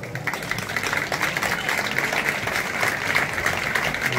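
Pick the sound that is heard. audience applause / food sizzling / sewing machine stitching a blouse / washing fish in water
audience applause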